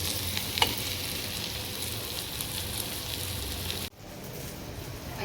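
Curry sizzling and frying steadily in a pan with chili powder and coriander powder, a dense continuous crackle with light stirring, briefly dipping near the end before resuming.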